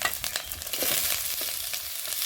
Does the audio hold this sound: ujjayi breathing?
no